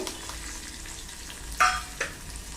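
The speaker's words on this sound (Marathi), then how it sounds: "ही फोडणी आहे आपली" A Marathi tempering of curry leaves, grated coconut and peanuts for alu bhaji sizzles steadily in hot oil, with two sharper crackles near the end as it is stirred.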